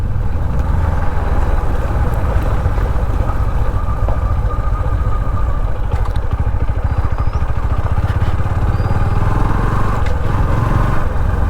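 A motorcycle engine drones continuously while riding a rough village road in rural Konkan, with steady low rumble and wind noise throughout and no pauses.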